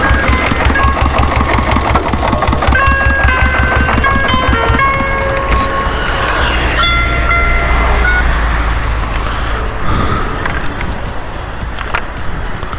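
A Diesel Bullet 7.5HP motorcycle idles in neutral, its steady, loud, low chugging running unbroken and close by with no voices over it.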